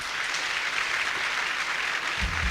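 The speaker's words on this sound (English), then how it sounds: "Let's clap for both of them." An audience at a school debate competition claps for both competing teams, a full and continuous burst of applause that fills the moment without any voices over it.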